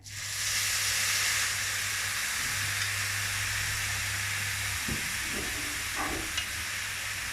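White wine poured into a hot pan of risotto rice, a sudden strong steamy hiss that holds at a steady level, followed by a few faint clinks of a utensil against the pan near the end.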